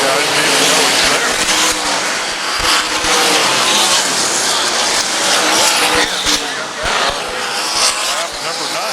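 Race cars, including Kyle Larson's, roar around a dirt track in an All Star sprint event, engines loud and sustained with tire squeal and skidding as the field exits turn four, a commentator talking over it.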